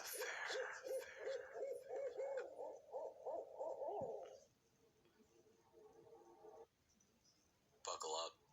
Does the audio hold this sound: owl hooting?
yes